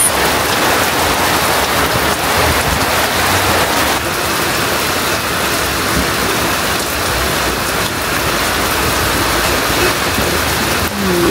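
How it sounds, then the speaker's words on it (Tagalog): Heavy rain pours steadily at an elephant park in Bali, a loud, dense hiss that fills the whole scene without a break. "Then, lakas ng ulan."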